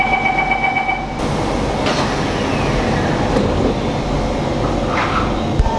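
Singapore MRT train interior: a steady rumbling hum of the carriage in motion, after a brief chime at the start, with faint squeals and clicks through the ride.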